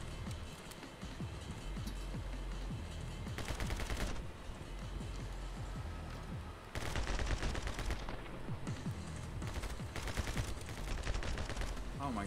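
Rapid automatic gunfire from the video game My Friend Pedro comes in dense, loud bursts with short pauses between volleys, rattling continuously through most of the stretch.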